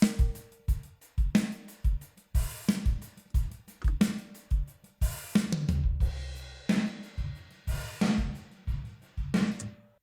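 Drum kit groove with reverb from the Dirty Dog Overdrive Reverb plug-in, steady kicks and snares with crashes and a fill midway, each hit trailing into a roomy wash, heard alone.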